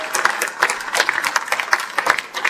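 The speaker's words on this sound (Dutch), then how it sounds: "En mag ik een applaus voor de dame die nu hier binnenkomt" An audience at a political party members' day applauds the woman who makes the coffee, a lively burst of close, uneven hand claps and crowd noise that keeps going strongly throughout.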